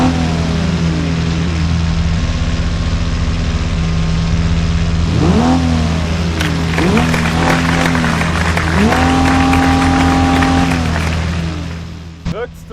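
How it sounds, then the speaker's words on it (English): A six-cylinder car in BeamNG.drive idles with a low hum, then revs its engine several times in rising bursts, loud and close over a steady background drone. "it will rev up its engine to give out its national pride"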